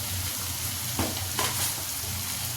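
Food frying in hot oil hisses steadily in a pan, cut by a couple of scraping stirs from a spatula, close up with no talking.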